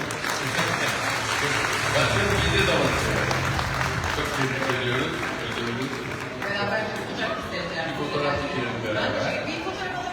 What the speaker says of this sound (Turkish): ikinizi birden alkışlatmak, tabii kendini de alkışlatmak istiyorum